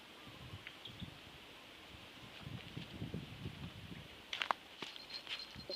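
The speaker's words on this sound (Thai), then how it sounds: "ลมแรงไปหน่อยครับวันนี้" Strong wind rustles leaves beside a fishing spot, a faint, continuous soft hiss with low gusty rumbles and a brief crackle near the end.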